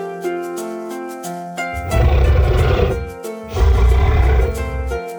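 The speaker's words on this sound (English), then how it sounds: "The T-Rex says, roar! Roar!" A cartoon T-Rex dinosaur in a children's drawing show gives two loud, deep, rumbling roars over a steady musical background, each lasting about a second.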